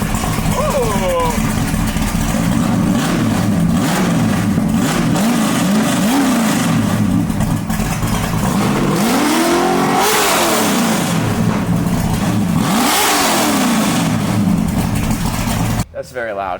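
A 1965 Ford Mustang engine revs loudly and close, climbing and falling through several big sweeps over a steady rumbling idle, while people talk over it.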